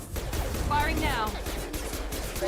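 Gunfire in the Mass Effect video game, a steady chatter of rapid shots mixed with game effects and a rising electronic whine, partly under talk.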